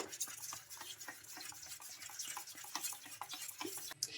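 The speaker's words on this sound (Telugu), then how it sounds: "ఇక్కడ నేనైతే ఎక్కడ ఉండలేకుండా బాగా కలిపేసుకుంటున్నాను ఇలా స్పూన్ తోటే." A spoon stirs a runny wheat flour batter for rava dosa in a bowl, giving quick repeated scraping and clicking strokes at close range, quiet and steady with no talk.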